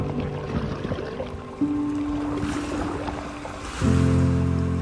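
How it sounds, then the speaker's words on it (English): Ocean waves wash onto a shore in a steady, rushing surge with some wind, while sustained music tones play over them. "And why do waves chase our feet?"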